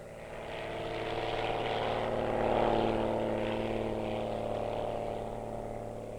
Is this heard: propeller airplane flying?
yes